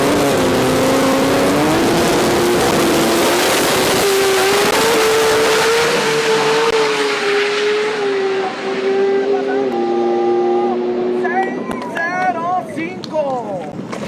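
Three-rotor 20B rotary drag car at an import drag racing event, a loud, rising engine howl that holds and shifts before fading, with people talking over it near the end.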